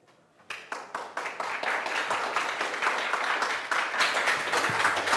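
Conference audience at SHELLCON 2017 breaking into applause after a security talk, starting with a few sharp claps and swelling quickly into steady, dense clapping from a room full of people.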